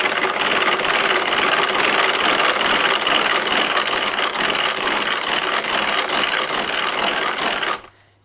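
An electric mixer whips egg whites for a rhubarb meringue clafoutis with a loud, steady whirring drone that runs unbroken for several seconds and then stops abruptly near the end.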